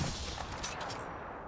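Dense burst of gunfire in the battle royale shooter Apex Legends, with sustained loud, continuous shots filling the brief moment and no talk over it.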